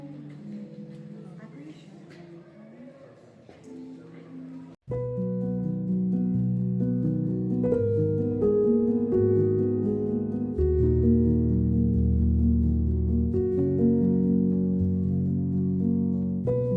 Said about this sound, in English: gently tapping the stalactites you see with a rubber mallet